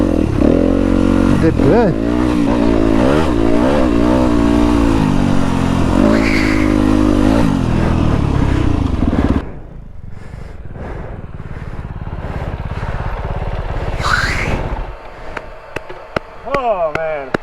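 2023 Kove FSE 450 R Rally motorcycle working up a steep, loose climb, its engine loud and close with rising and falling revs, then fading to a more distant drone; a rider speaks briefly over it.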